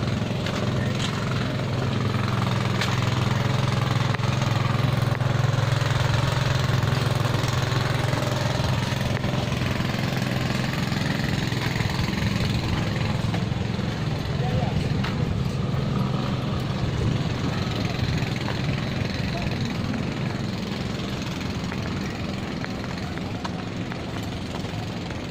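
A small wooden kapal ketek motorboat engine idles on standby in Palembang, a steady low drone that holds at an even level throughout.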